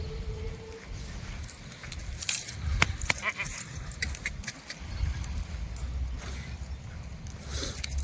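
Full-size Kathiyawadi goats bleat from a loaded vehicle, with several scattered, fairly close calls and rustling over a steady low rumble of background noise.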